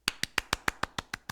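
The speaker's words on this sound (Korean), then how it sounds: "박수 치셔요." Nine crisp, evenly paced hand claps from a single nearby person, each a sharp slap with a short tail, steady and unaccompanied by speech.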